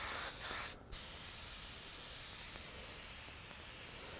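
Spray gun laying a light tack coat of black cherry candy paint, a steady close hiss that runs throughout with one brief break near the start.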